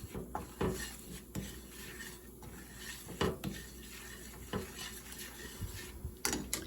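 Flour being cooked in a pan for gravy, heard as scattered metallic clinks and scrapes of a utensil against the pan, fairly quiet, with no talking.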